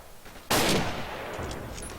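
Machine gun fire from an emplaced machine gun position in Forgotten Hope 2, erupting suddenly as a loud, dense burst and continuing as sustained gunfire, with no talking.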